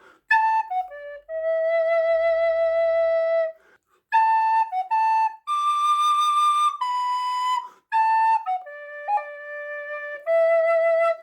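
A descant recorder plays the hymn tune Morning Has Broken up close, mostly long clear held notes with a few quick ornamented runs and short pauses between phrases.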